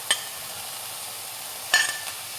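Green chillies drop into a pan of sizzling Kerala-style beans stir fry, giving a steady frying hiss with two brief crackling spurts as they land.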